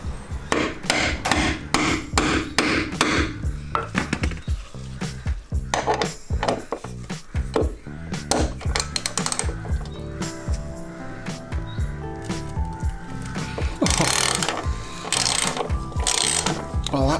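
Old tow bar bolts on a Volvo V50 being worked loose with a ratchet, rapid clicking pawl strokes and metallic clanks in close bursts, loud and busy throughout, without talking.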